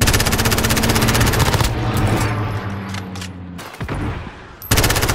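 Rapid automatic gunfire bursts in a Call of Duty match, loud and dense for the first seconds, thinning into scattered shots and crackle before a fresh loud burst near the end.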